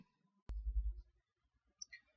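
A single sharp click lands near the start, followed by a soft low thump and a faint high chirp, with near silence around them.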